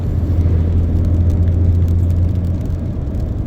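Steady low engine hum and road rumble from inside a five-year-old Maserati with 60,000 km on it, cruising a scenic road near Kelowna, BC, with a constant drone throughout and no talk.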